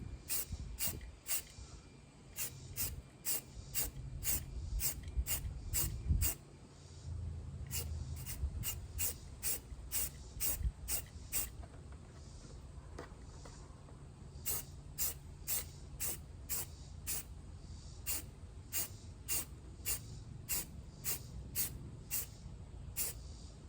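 Spray paint hisses onto a duck decoy in many short sharp bursts, close and fairly loud, with a low rumble underneath and no talk.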